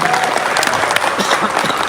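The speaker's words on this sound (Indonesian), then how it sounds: "tepuk tangan untuk Pak Anies Baswedan" Loud, close audience applause after a closing statement at a dialogue event, a brief dense burst of many hands clapping with faint crowd murmur beneath.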